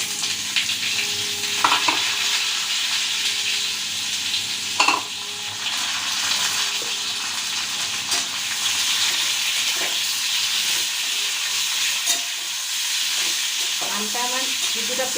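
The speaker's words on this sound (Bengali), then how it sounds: "এই যে কেটে ধুয়ে রাখা আম আমি এর মধ্যে দিয়ে দেবো" Cut mango pieces go into hot oil with a mustard spice tempering, giving a loud steady sizzle and hiss with occasional sharp crackles and stirring scrapes, close up.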